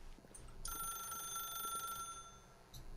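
Telephone ringing in the video game The Stanley Parable, a single electronic bell ring of about a second and a half with a clear tonal buzz, quiet against a low background.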